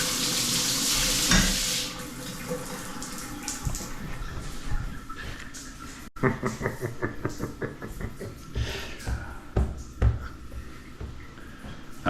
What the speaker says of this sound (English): I'm gonna go ahead and open up the shower.